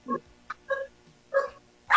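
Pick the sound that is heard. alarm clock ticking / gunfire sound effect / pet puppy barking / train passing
pet puppy barking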